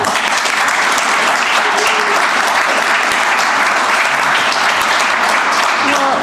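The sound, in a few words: applause for retirees at county commission meeting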